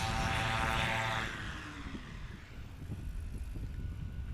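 A STOL propeller plane lands at a short-field competition, its engine roaring loudly at first, then dropping to a lower rumble with wind noise and brake-like scraping as it rolls to a stop.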